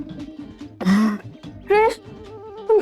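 Two or three harsh, throaty coughs ring out close by, separated by brief pauses, over a quiet background.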